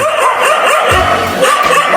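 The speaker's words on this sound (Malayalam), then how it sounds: "ഈ പട്ടികളെല്ലാം കൂടെ എന്തില്ല നമ്മളെ പിറകെ ഓടി വരണേ" Several dogs bark and yelp together in a loud, continuous jumble during a comedy stage skit, with no clear break between barks.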